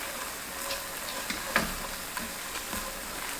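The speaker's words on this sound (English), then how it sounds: "You're frying the sauce, you know. Just fry it a little bit." Quiet, steady sizzling of black bean sauce frying in a pan over low heat for jjajangmyeon, with a few faint ticks and stirring scrapes.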